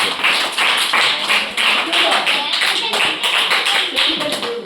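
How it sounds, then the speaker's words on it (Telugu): A group claps hands together at a celebration, with crisp, fairly even slaps repeating in quick succession and some voices mixed in underneath. "అందరూ చప్పట్లు కొట్టండి."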